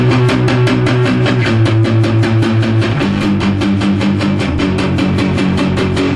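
Rapid palm-muted power chords chug at a fast punk tempo, dense and driving, played up close with no talking.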